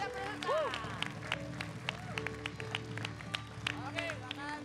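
An audience claps for three contestants on a comedy stage show: scattered, uneven claps that sit under ongoing talk and crowd murmur.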